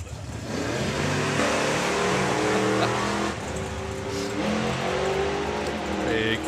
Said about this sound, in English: Big throttle stop there for Colin Morris